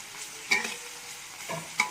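Chopped garlic fries in a pan in simple home cooking, giving a soft, steady sizzle broken by three sharp scraping stirs, with no voices.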